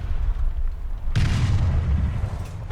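A tank's ammo rack detonates in a video game: one loud, heavy boom erupts partway through after quieter rumbling, then a long roar of debris and echo.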